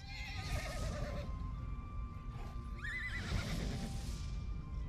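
A horse in the video game Elder Scrolls Online whinnies twice with shrill, wavering neighs, separated by a short gap, over a constant low background rumble.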